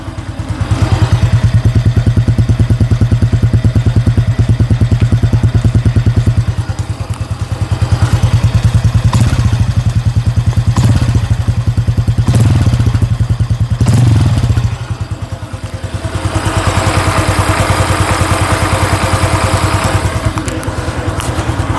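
Honda Dream NCX 2024 motorcycle with a 125 cc fuel-injected engine starts and settles into a steady, loud, close idle, with a brief dip in revs partway through and light mechanical clatter, no talking.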